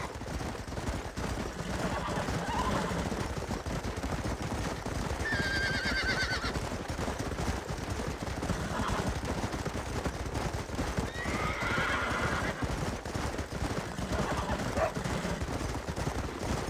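Horses whinny twice in Red Dead Redemption over steady outdoor ambience, with a dense rumbling bed of noise throughout; the neighs are moderately loud and spaced apart.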